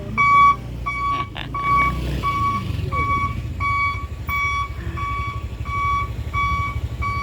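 A heavy truck on a narrow road sounds a regular series of loud reversing beeps over a low, rumbling engine, the evenly spaced tones continuing as the vehicle maneuvers.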